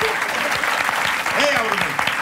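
A studio audience at a Turkish television relationship-quiz show applauds with steady, continuous clapping throughout, while a voice carries over it.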